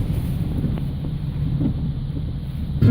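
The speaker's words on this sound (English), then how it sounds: "These are serious wind gusts now." Steady, roaring wind from Hurricane Irma buffets the microphone with low rumbling gusts in Royal Palm Beach, Florida, loud and continuous throughout, with no voices.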